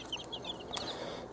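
Free-ranging hens with a rooster on a small farm cluck in short, faint bursts over a steady outdoor background hiss, with no talking.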